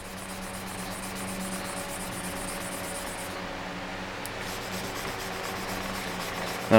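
Sandpaper rubs by hand along a knife blade during polishing, a steady, soft hiss of continuous strokes at close range with a brief pause partway through.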